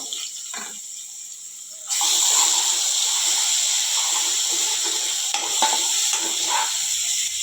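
Green chilli and garlic drop into hot oil, and a quiet background jumps to a loud, broad, steady sizzling hiss that holds to the end, with faint clinks from a utensil.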